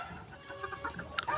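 Chickens cluck at a gamefowl farm on Mount Banahaw, giving a few short, close, overlapping calls over steady farmyard background noise, with no talking.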